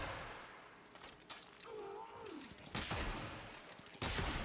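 Ferrox charged shots firing in the Warframe video game: sharp, heavy energy blasts with whooshing tails, a couple of loud bursts near the end over busy game noise, with a voice briefly heard.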